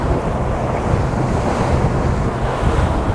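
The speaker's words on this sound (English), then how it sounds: "I don't know if the cameras can pick up these waves" Rough ocean waves surge around a crab boat working at night during stone crab season, a steady loud wash of surf mixed with heavy wind buffeting the microphone, with no voices.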